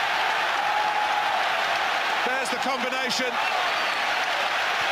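A football stadium crowd at Arsenal versus Newcastle United roars and applauds after an Arsenal goal, a dense sustained wall of cheering throughout, with a commentator speaking briefly over it.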